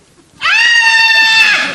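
One loud, sustained, strained scream rings out close and alone for about a second, a harsh nasal wail that sounds almost like a goat bleat, as part of primal scream therapy.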